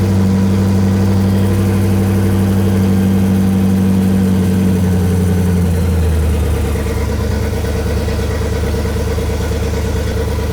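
A 1955 Buick's V8 engine idles loudly and steadily close by with newly corrected timing, its low rumble shifting slightly in pitch partway through.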